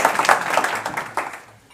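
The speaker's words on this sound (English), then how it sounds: "give them a round of applause" Audience applause for a contestant at an international grand final competition, a dense burst of many hands clapping that swells briefly and then fades out over under two seconds.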